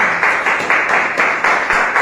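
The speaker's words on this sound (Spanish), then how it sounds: "Denle un aplauso a Dios, hermanos" Church congregation applauding in rhythmic pulses, a steady loud clapping swelling and dipping several times per second without speech.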